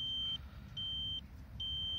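A Geiger counter dosimeter measuring background radiation gives three long, steady, high-pitched electronic beeps at an even rhythm, close and clear over a low background hum.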